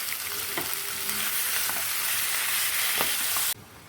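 Mutton pieces and mutton fat fry for a bachelor-style biryani, giving a loud, steady close-up sizzle with faint stirring clicks. The sizzle cuts off abruptly near the end.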